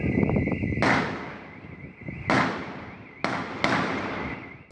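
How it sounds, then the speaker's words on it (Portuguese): Four sharp gunshots from a police shootout with robbery suspects in Rio Grande do Sul, Brazil, spaced irregularly, each ringing out with a long echoing decay, following a stretch of loud muffled noise. "Eles se negam e os disparos aumentam."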